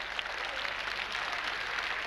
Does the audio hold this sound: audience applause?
yes